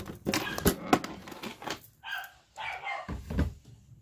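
A dog barks several times in short, uneven bursts, fairly close but not loud, with a few quieter muffled yips between them.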